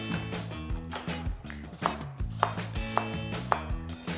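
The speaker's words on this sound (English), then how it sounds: "So they're all peeled before I chop them up." Knife chopping peeled apples on a cutting board for an apple crumble filling, a steady series of close, firm thuds and blade knocks at an uneven pace, with no talk.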